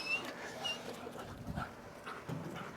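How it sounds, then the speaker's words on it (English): A dog whimpers and gives soft yips and pants, fairly faint and close, with no talking. "You got all the dogs in the neighborhood all fired up now."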